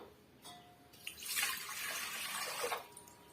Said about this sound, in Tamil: இந்த கப்பால நாலு கப் அளவுக்கு நம்ம தண்ணி சேர்த்துக்கலாம்